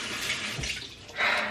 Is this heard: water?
yes